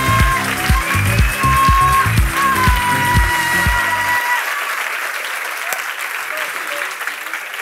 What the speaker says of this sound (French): Merci d'applaudir fort Cynthia Divin